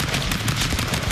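Rapid video-game gunfire from Stick Fight: The Game, a dense, loud burst of overlapping shots with no pauses.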